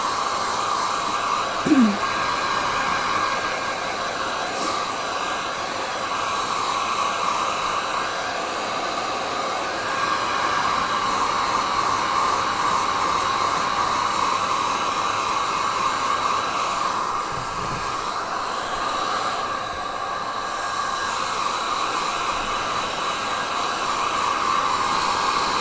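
A hair dryer blows steadily over wet watercolour paint, a constant close whirring roar that runs unbroken throughout with only slight shifts in tone, no talking heard.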